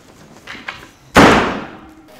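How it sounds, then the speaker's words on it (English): A door slams once with a loud, sharp bang that decays over about a second, following a quiet stretch with faint background sounds in an indoor behind-the-scenes setting. "that door kept slamming"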